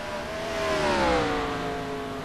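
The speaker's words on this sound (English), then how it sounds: "You can hear him playing with the gears on the clutch a little bit to try and save fuel" A Chevrolet Camaro race car engine hums steadily at Pocono Raceway, its pitch rising and dipping slightly as the driver works the gears and clutch to save fuel, heard from a moderate distance without voices.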